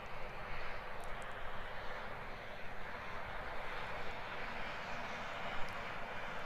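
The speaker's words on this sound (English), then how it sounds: "Little Cessna Caravan creeping up on us." A Cessna Caravan aircraft taxiing onto the main runway at snowy alpine Queenstown Airport, its engine a continuous broad droning rumble, steady and moderately distant, with no voices.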